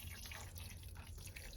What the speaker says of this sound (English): Give them some water to get them going.